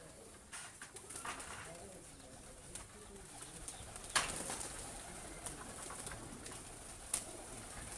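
Pigeons cooing softly at a loft after landing, low throaty coos repeating through the scene with occasional wing flaps and faint outdoor background, a voice talking quietly nearby.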